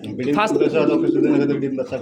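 Young breeding pigeons coo in low, throaty bursts close by, mixed with someone talking over them.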